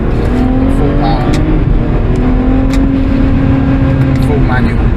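BMW with the N54 engine and DCT gearbox accelerating at full power in 2nd gear, a loud, steady engine roar with rising tonal harmonics sustained throughout, with a voice talking over it.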